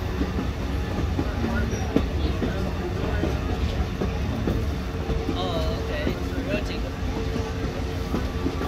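A steady video game train rumble with clattering wheels runs throughout as the train passes a waterfall, while people talk over it.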